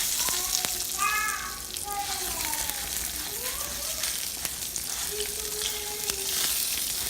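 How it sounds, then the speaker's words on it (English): Rice frying in a pan for Mexican rice, giving a continuous sizzling crackle under a voice talking with rising and falling tones. "So you're just gonna fry that up."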